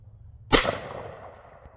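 A Rossi Tuffy compact .410 shotgun fires a single 45 Long Colt round outdoors, one sharp loud crack that trails off in a fading echo.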